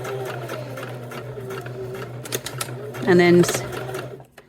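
Sewing machine back-stitching across a previous stitch line while finishing a cork clutch, a steady mechanical whir under continuous talk, with a louder, denser burst of stitching near the end.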